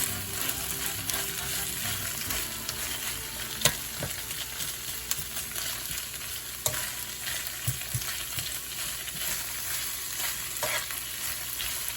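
Onion added to browned pork chops, sizzling loudly and continuously in the pan for the whole stretch, with occasional clicks and scrapes as it is spread and stirred.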